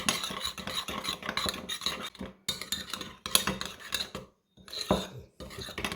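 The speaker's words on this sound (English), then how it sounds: "And give all that a good mix together." A utensil scrapes and clinks against a bowl while mixing a kimchi stew seasoning paste with soy sauce, close up, in quick irregular strokes with brief pauses.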